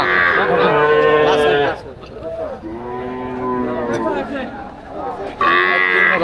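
Cattle moo loudly and repeatedly close by at a village cow market, with long drawn-out calls overlapping one another, followed by a short pause before another moo begins.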